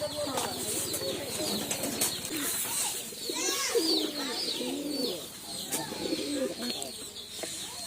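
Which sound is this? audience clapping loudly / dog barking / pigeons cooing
pigeons cooing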